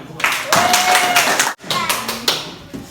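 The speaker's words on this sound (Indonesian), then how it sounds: "Untuk itu kita beri aplaus untuk kita semua." A classroom of students bursts into brief, dense clapping close by, two quick rounds separated by a short gap, with children's voices mixed in.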